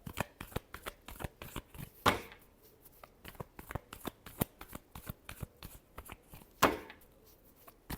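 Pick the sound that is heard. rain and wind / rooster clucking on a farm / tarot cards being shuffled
tarot cards being shuffled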